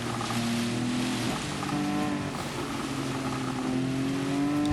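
Race car engines drone in a wet Gran Turismo race, several steady whining tones rising and falling over a constant hiss of spray and road noise, loud and unbroken throughout without speech.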